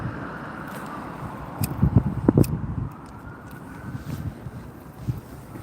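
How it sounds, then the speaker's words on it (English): Wind buffets the microphone outdoors in a steady rumbling blow, with a few louder gusts and distant background noise. "It's like windy out here, man."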